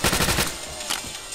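Trench gun blasts rapidly in a Call of Duty zombies match on the Shi No Numa map, a quick burst of several close, loud shotgun shots followed by a couple more spaced reports.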